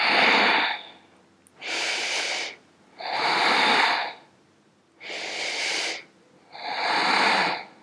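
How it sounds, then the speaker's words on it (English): Slow ujjayi yoga breathing during a vinyasa flow class: five long, hissing breaths, each about a second, near and steady with short pauses between them. "Breathing. Ujjayi breath."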